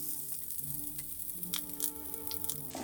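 Onions fry in fat in a pan for a Babylonian tuh'u stew, giving a quiet, even sizzle with a few faint crackles and a brief rustle near the end.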